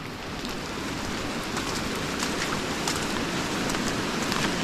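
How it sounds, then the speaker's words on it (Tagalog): Heavy rain pours down steadily during flooding, a dense, even hiss of falling water and spattering drops that holds throughout without talk. "Malakas nga yung ulan na yun."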